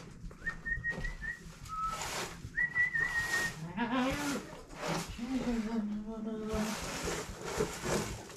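A goat or lamb bleats inside a barn, its cries rising and falling in the middle of the clip alongside a person talking, with high whistle-like tones near the start and general stable noise throughout.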